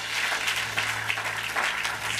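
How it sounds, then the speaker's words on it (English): A church congregation applauds a miraculous healing testimony, a brief, steady burst of clapping that is moderately loud, with no voices over it. "let's give a God a round of applause for this miraculous healing"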